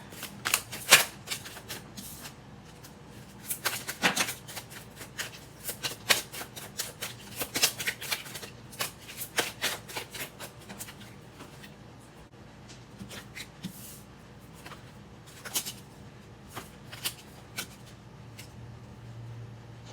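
Oracle cards are shuffled by hand in bursts of close, crisp papery riffles and slaps with short pauses between them, and nobody speaks.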